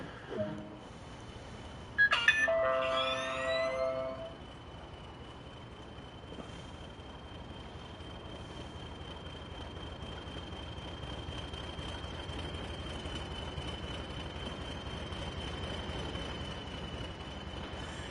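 A train in the Train Sim World 2 game rumbles along with a low continuous rattle and a faint steady tone, with a brief burst of electronic beeps and chirps early on.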